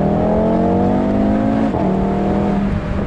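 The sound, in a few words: Audi TT RS Roadster engine accelerating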